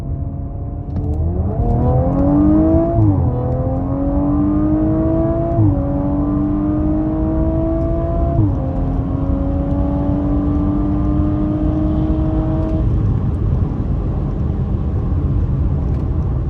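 A 450 bhp Audi RS5 B9 Carbon Edition with a 2.9-litre twin-turbo engine accelerates hard from about 30 mph in sport mode, its loud droning engine note climbing through several gearshifts in a long continuous pull, with no voices.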